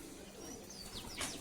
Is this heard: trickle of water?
no